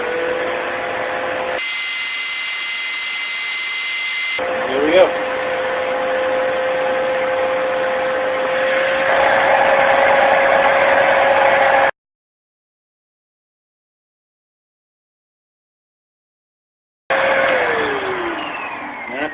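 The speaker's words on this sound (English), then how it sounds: "I'm going to turn the vacuum on now." Vacuum pump on a DIY vacuum forming machine running with a loud, steady mechanical whine and hum, interrupted by a few seconds of silence before it resumes; a voice speaks briefly.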